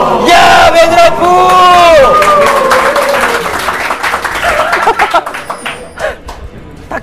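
A studio audience at a League of Legends broadcast erupts in loud cheering and yelling, then the roar fades into scattered claps and voices over several seconds.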